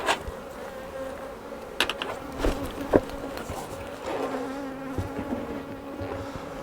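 Honeybees buzz around a beehive super at an allotment apiary on a warm sunny morning, a steady droning hum with individual bees passing close and loud over the background swarm, with no talking.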